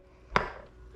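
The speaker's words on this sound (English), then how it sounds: "so now we're going to chop this up and we're gonna shred it, our zucchini" Knife chopping zucchini on a cutting board: two sharp, close chops, the second one near the end after a short pause.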